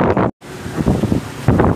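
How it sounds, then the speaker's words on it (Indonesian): Strong gusts buffet the microphone outdoors beside a carbureted Vario 110 scooter, a loud broadband rumble that cuts out abruptly for a moment and then roars back in surges. "Angin ini kenceng banget ini"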